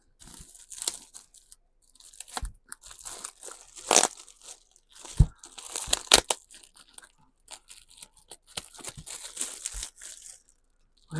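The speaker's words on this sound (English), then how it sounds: "scissors are going to come out for this one." Scissors cutting and tearing through plastic packaging on a haul of craft materials, with irregular crunchy snips and crinkling bursts separated by short pauses, close and fairly loud.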